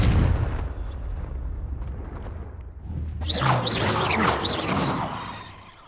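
A Confringo fire spell cast in Hogwarts Legacy erupts as a loud, rushing blast that swells midway with crackling bursts and whooshing debris, staying dense and near to the end.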